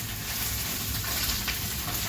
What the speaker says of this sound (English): we're going to continue searing the salmon